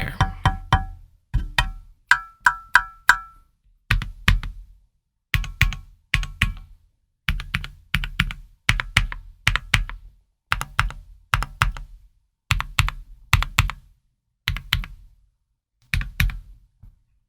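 Typing on a Tiger80 mechanical keyboard produces close, crisp bursts of clacking keystrokes in quick rhythmic groups with short pauses between them, a faint ringing tone trailing some early presses.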